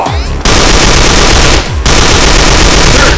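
Sustained automatic bursts from an RPK-74M machine gun in a shooter video game, loud and continuous across nearly the whole stretch with a brief break partway through, dense rapid fire with no pauses between rounds.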